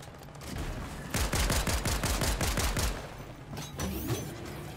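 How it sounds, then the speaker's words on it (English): Rapid pistol gunfire from a Mythic pistol in Fortnite, a fast string of loud shots for about two seconds over steady game ambience, followed by a brief mechanical reload-like rattle. "Mythic pistol putting in work."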